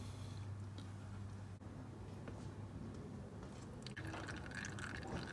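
Engine oil drains from a BMW 550i oil pan as a faint, steady trickle and patter into a catch container, with a few small clinks and handling noises, heard close and quiet.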